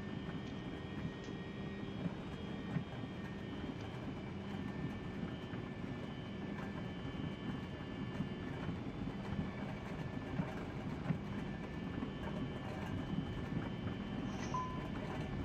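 Airliner jet engines in a flight simulator spool up toward takeoff thrust, a steady broadband roar with a low rumbling hum and faint tonal whine, continuous and without speech.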